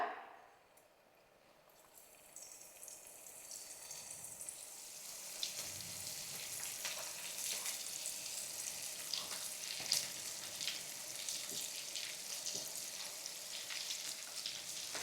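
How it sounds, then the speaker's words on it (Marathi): Paneer frying in hot oil on a pan for paneer biryani; after a quiet start the sizzle swells into a steady, close crackle with scattered pops and spits, no voices. "तेल तापलं आहे पनीर फ्राय करून घेऊया"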